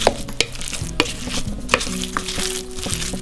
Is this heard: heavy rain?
no